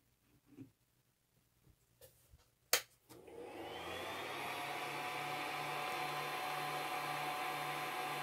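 A Creality CR-10 3D printer is switched on after a few faint clicks in a quiet room, and its fans spin up into a steady, moderate whirring hum that holds to the end.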